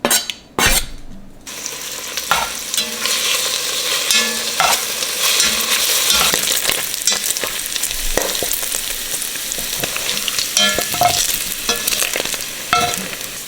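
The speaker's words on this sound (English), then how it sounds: "We're just going to add our bacon." Bacon frying in a pot over medium heat, with a steady, loud sizzle and crackle that fills the whole stretch, broken by occasional scrapes and clinks of a utensil stirring against the pot, and no talking.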